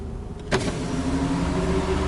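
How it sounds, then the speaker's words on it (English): From inside a 2013 Nissan Rogue with the window down, traffic goes by outside in a steady roar. A short click and a whir come first, as if a power window is moving. "Now you can hear everything,"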